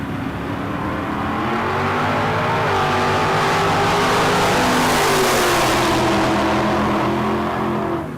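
Drag racing cars, a Pinto and a Camaro, roar down the strip at a bracket race, their engines a loud, sustained, building rumble that fills the whole stretch with no break.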